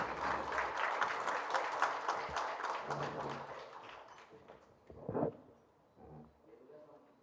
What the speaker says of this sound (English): Good round of applause for that.